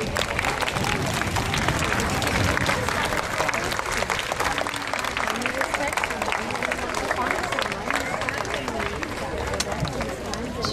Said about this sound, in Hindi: तो खड़े होकर खूब तालियां।